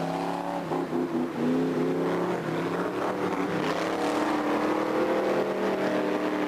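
Saloon cars thunder around a stock car track in a 20-lap race, engines roaring loud and continuous with rising and falling revs as the pack circles close by.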